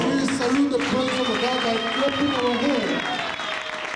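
Church congregation cheering and applauding in praise, a dense wash of clapping and shouting voices, steady and lively, tapering slightly at the end.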